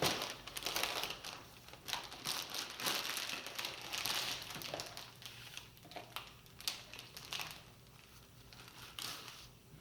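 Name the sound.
crinkling paper wrapping pulled off a white garden rose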